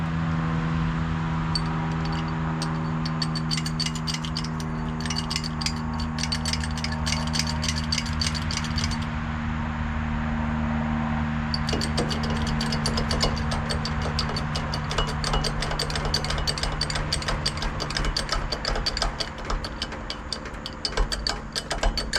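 Bottle jack pumped under a trailer frame for a tire rotation, a steady run of quick rhythmic metallic ratchet clicks over a low constant hum, pausing briefly before resuming.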